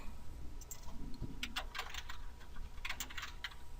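Quiet tapping on a computer keyboard entering contact details into a web form, irregular bursts of light key clicks over faint background hiss, no voices.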